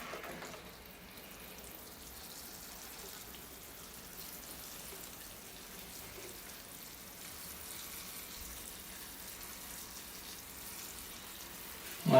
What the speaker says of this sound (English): I think I'm ready to water the tree. All right, here I go with the water.